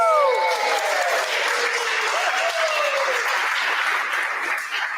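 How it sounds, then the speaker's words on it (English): Applause rolls through the crowd at the GameJamPlus 2023-24 Europe Continental Final, a thick, even wash of clapping lasting the full five seconds, with a voice briefly audible at the start. "A round of applause for that, guys."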